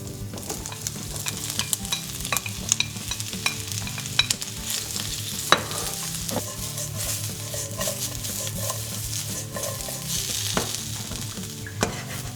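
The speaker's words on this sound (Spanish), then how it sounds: "Un poquitín de aceite en el wok, encendemos el fuego y vamos con la receta. Empezamos por dorar el tempe." Tempeh sizzles in a little oil in a hot wok while being stirred, a constant frying hiss with scattered scraping and clinking of the utensil against the pan, quiet and close.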